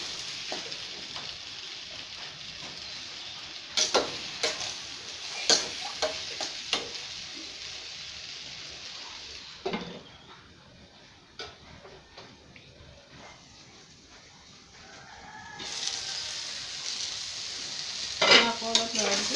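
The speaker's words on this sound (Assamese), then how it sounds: "আকৌ অলপ লৰাই দিছোঁ।" Jackfruit curry with tomatoes frying in a pan, a soft steady sizzle broken by repeated scraping and clinking taps of a spoon stirring, close and fairly quiet, with no talking.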